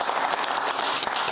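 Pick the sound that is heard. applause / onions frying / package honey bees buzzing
applause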